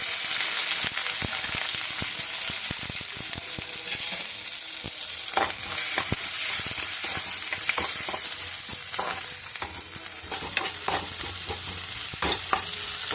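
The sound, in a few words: onions and green chillies frying in a pan for wheat rava upma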